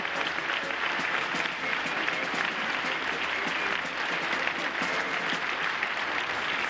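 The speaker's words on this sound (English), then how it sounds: "a stirring round of applause for Queen Elizabeth II here" A large outdoor crowd at the international D-Day commemoration in Normandy applauds Queen Elizabeth II, a sustained, even wash of distant clapping that holds steady for several seconds without talk.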